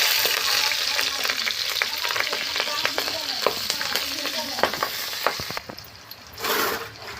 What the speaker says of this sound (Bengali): আমি কড়াইতে তেল দিয়ে দিলাম। আমার কড়াইতে তেল দেওয়া হয়ে গেছে। এবার আমি কাঁচা ঝাল দেব।